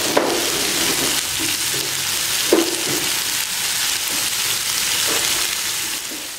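Loud, constant sizzling of potatoes sautéing with onion in butter in a pan, close up, with a few clunks of stirring.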